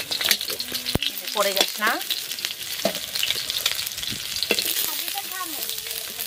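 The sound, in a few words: eggs frying in oil on an outdoor stove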